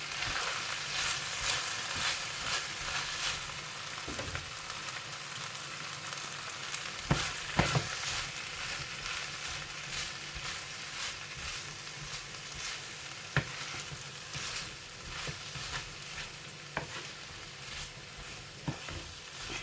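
Spaghetti and chicken stir-fry in a pan with a steady, fairly quiet sizzle, broken now and then by the scrape and clack of stirring. No one speaks.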